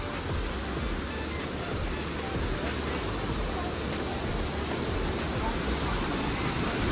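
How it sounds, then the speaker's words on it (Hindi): A waterfall pours as a steady, loud broadband roar of falling water, close by and unbroken, with no other sound standing out. "और सामने है वाटरफॉल"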